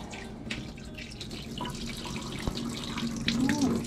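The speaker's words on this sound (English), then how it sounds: "we're gonna empty out the water" Hot water from a pot of boiled chicken thighs and turkey tails pours and splashes into a kitchen sink, a steady running gush that builds slightly louder toward the end.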